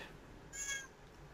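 A cat gives a single short meow, faint and somewhat distant, in an otherwise quiet room.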